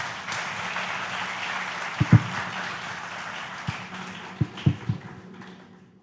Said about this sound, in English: Please give a big round of applause to sir.